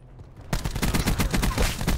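Dense rapid gunfire in Call of Duty Black Ops 4 multiplayer bursts in abruptly after a quiet start, loud continuous shots with sharp repeated cracks throughout.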